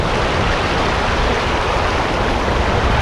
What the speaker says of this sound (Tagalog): Malakas din yung current ng tubig